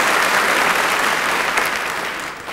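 A studio audience at the 1981 Wetten Dass..? show in Hagen applauds, producing continuous, loud, dense clapping from a large crowd that fades slightly at the end, without speech.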